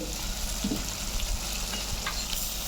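Spice tempering poured into hot oil for a palak paneer dish, giving a steady close sizzle and frying crackle with a few brief pops, no voices.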